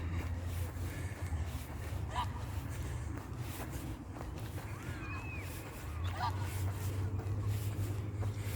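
By a lake, ducks or geese give a few faint, far-off honks spread a few seconds apart over a steady low background noise.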